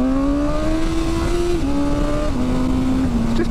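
A BMW M1000R sports motorcycle pulls hard in first gear with a loud, close, steady engine howl that rises and steps through slight pitch shifts, with no talking.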